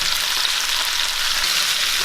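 Broccoli, carrots, zucchini and squash sauté in olive oil with a loud, constant, close sizzle and a faint stir in the background.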